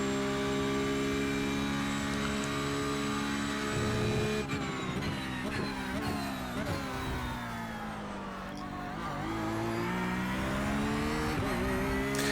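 A BMW race car engine in the iRacing sim during an IMSA race at the Red Bull Ring, running as a loud, steady harmonic drone whose revs dip and climb again near the end, with no talking.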